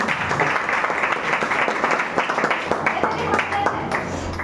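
Audience clapping at a product testimonial gathering, a steady run of distinct claps with some voices and murmur mixed in.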